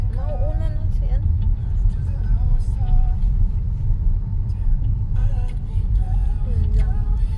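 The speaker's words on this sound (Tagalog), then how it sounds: "Yun lang. Traffic." Steady road traffic with cars passing along a busy street lined with shops, a continuous low rumble throughout with voices talking over it.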